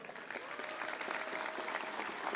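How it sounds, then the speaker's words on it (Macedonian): A crowd at a political gathering gives sustained applause, dense and continuous clapping filling the room without a break. "ве повикувам сите да ги поздравиме со силен аплауз"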